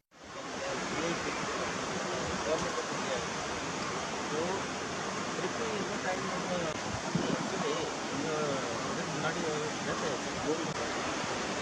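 Steady, dense rushing water roars without a break, a broad wash of noise like a waterfall heard from nearby, at Anjuveedu Falls near Kodaikanal.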